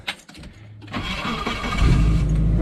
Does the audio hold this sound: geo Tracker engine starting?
yes